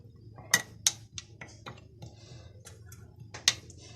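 Spoon stirring black pepper, cumin, coriander and lemon juice in a dish, giving a few sharp clinks and taps against the bowl over soft scraping, close and fairly quiet.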